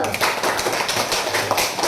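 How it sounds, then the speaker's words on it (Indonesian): A classroom of students claps together in a dense, continuous patter of hand claps. The sound is loud and close and lasts a couple of seconds, with no voices over it. "tepuk tangan untuk kita semua dulu"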